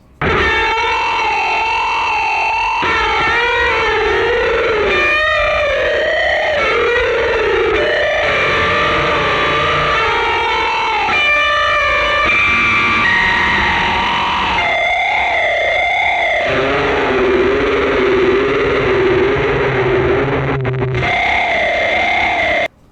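Electric guitar played through a chorus effect, wobbling, shimmering notes and bends, loud and continuous with short pauses between phrases.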